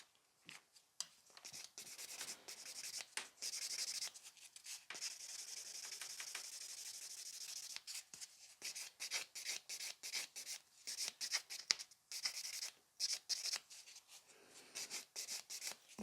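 Nail tips being buffed with a nail buffer for gel polish mosaic nail art: quick, dry rubbing strokes in irregular bursts with brief pauses, close and fairly quiet, no voices.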